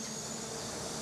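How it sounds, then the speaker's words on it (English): Cicadas drone in a loud, unbroken high-pitched buzz on a hot summer day in Korea, a dense constant chorus with no talk. "Cicadas are screaming out."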